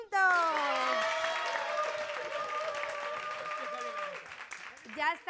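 Families at a team game event in Numancia de la Sagra applaud the white team with a burst of clapping and some cheering, while an announcer's amplified voice talks over it.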